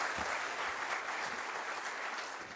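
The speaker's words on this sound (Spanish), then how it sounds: "Invitamos y lo recibimos con un fuerte voto de aplausos" Steady applause from an audience in a hall, welcoming a guest speaker at a SENATI automotive mechatronics event; dense, even clapping throughout, fading slightly at the end.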